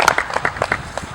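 Scattered, sparse clapping from a small gathering at a Kansas City celebration, a handful of uneven claps rather than a full ovation, fairly close.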